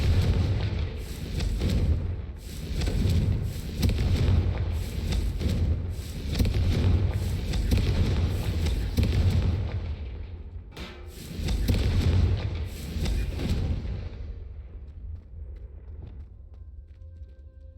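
Repeated Confringo blast spells exploding in Hogwarts Legacy, a string of loud booming thuds and blasts in bursts over roughly fourteen seconds, separated by brief lulls, fading toward the end.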